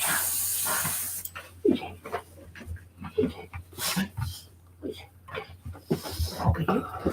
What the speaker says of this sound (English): some airbrushing